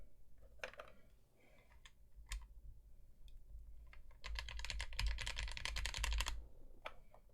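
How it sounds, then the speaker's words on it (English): Typing on a computer keyboard during a keyboard build, quiet scattered key clicks at first, then a dense burst of rapid keystrokes in the second half before it slows to a few taps. "It's kind of like a clown keyboard."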